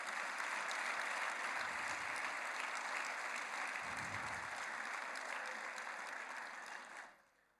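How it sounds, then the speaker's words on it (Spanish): A church congregation applauds during a sermon, a dense, steady wash of many hands clapping, sustained and even for several seconds before fading out abruptly at the end, with no speech over it. "Yo le daría un aplauso al Señor por eso."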